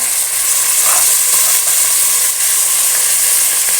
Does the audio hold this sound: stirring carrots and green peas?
yes